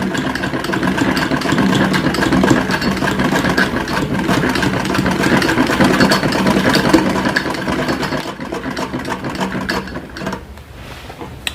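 Sewing machine stitching piping onto a sofa cover, running in a steady continuous mechanical drone at close range that eases off and thins out near the end, with no talking.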